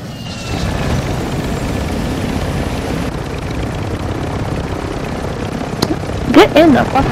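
Helicopter in a shooter video game, a constant rotor and engine drone filling the background while people talk over it, with a brief burst of other game noise near the end.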